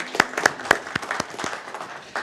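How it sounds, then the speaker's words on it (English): Sparse applause at a business series event in Aberdeen: a handful of distinct, separated claps ring out close by, then thin out, with a brief burst near the end. "Another round of applause for Rajesh."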